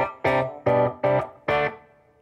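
An electric guitar played through a Fender Mustang GT 100 amp with a crunchy, slightly aggressive clean tone and subtle reverb: four strummed chords, each ringing about half a second before a short gap.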